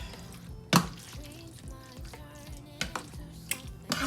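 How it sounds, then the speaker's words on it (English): Casserole ingredients stirred together for a quick, cheap dinner, giving soft wet scraping and squelching with a few sharper clinks of the utensil against the dish, quiet and close, with no talk. "So all we're going to do now is stir all this"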